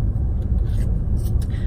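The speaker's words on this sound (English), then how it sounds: "Sorry if you guys can hear like my car fan going." The air-conditioning fan of a parked car at a drive-in runs on a hot day, giving a steady, close, low rumbling whoosh with no talk.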